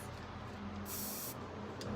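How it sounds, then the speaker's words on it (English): A short hissing burst of spray paint, applied to a tumbler with decals on it, sounds for about half a second over a steady background hum, followed by a faint brief puff. "Just spraying, making sure to spray around my decals."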